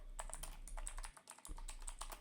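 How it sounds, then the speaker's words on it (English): Fingers type on a hot-swappable Cosmic Byte mechanical keyboard that registers multiple keystrokes per press, giving a rapid, steady stream of close, crisp key clicks with a brief pause midway. "when I press a key, the keystrokes are being multiple."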